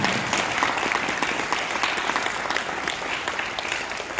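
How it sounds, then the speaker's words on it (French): An audience at a 2019 New Year's gathering of La République en marche in the Loiret claps steadily, a dense, even patter of many hands held at a constant level for a few seconds. "Vous pouvez l'applaudir."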